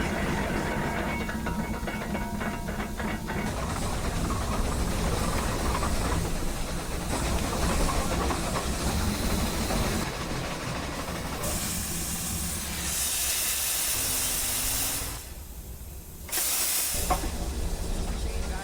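An oil-fired steam locomotive hisses loudly and continuously, working water out of its cylinders, with steady mechanical clatter beneath and a brief dip in the hiss near the end.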